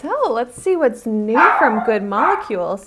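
A dog barks and yips several times in quick succession close by, while a person talks over it.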